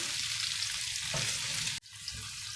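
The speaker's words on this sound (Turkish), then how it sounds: "Ve sucukların rengi dönene kadar pişiriyorum." Rounds of sliced sucuk sausage fry in a pan for a potato-and-sucuk sauté, giving a steady close sizzle with faint stirring, broken by a brief dip near the end before the frying hiss returns.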